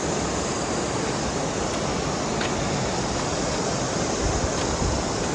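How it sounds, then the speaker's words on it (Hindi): A waterfall along the mountain trek to Madmaheshwar in Uttarakhand, heard as a steady, dense broadband rush of falling water that stays loud and unbroken throughout, with no voices. "ये नज़ारा झरने का"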